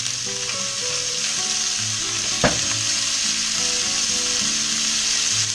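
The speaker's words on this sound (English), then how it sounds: "we're going to brown up this meat a little bit before we put it into the soup" Meat browning in hot olive oil for a beef and barley soup, a steady close sizzle of frying throughout with a brief stir or clatter partway through.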